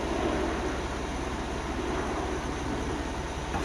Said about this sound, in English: Oh, there's a plane. Where is it? That flies over it every now and then. Big jumbo jet.